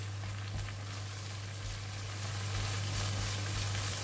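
An egg sizzles and fries with vegetables in onion oil in a pan, giving a steady close crackling hiss with no talk.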